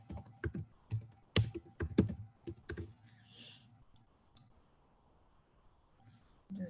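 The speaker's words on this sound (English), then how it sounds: "now here, I'm just gonna type in very quickly" Quick bursts of typing on a computer keyboard while a Scentsy fundraiser flyer is being set up: close, crisp key clicks in a rapid run, then a sparse pause with only faint room sound.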